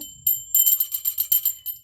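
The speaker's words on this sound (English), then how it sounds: "She has a little bell." A little bell on an angel figurine rings in quick bright jingles, a short burst of rapid strikes, close and clear with no talk.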